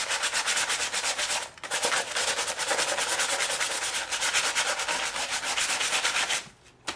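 Old 120-grit sandpaper scrubs white styrofoam in fast, rhythmic back-and-forth strokes, a close, hissing rasp that pauses briefly partway through and stops near the end.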